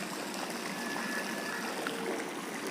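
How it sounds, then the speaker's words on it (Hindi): A waterfall at Humayun's Tomb in Delhi gives a soft, steady rush of falling water, a constant faint hiss heard from a distance with no other sounds. "शांत होके बस इस झरने के शोर को सुनो"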